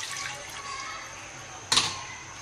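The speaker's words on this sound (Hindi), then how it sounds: "सबसे पहले हम ये पानी डालेंगे।" Water poured into a cooking pot while preparing keema, a steady splashing wash that builds briefly near the end, with someone speaking over it.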